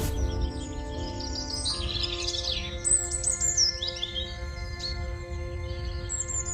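Birds chirp and tweet in a forest, their quick sweeping calls scattered over a steady low musical drone, moderately faint, with no speech.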